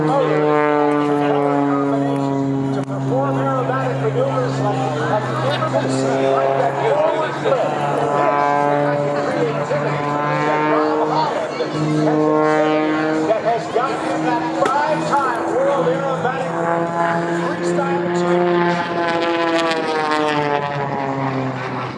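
A carbon-fiber aerobatic airplane with a 350 horsepower engine performs at an air show, its steady droning engine tone wavering and rising throughout under continuous announcer talk.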